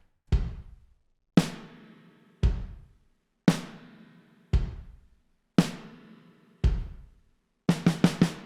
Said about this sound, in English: So now the kick and snare sound like this.